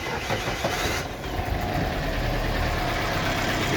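A rebuilt Toyota Corolla 7A-FE engine cranks and catches on its first start attempt, then settles into a rough, steady mid-pitched run with knocking texture, moderately loud and close without talk.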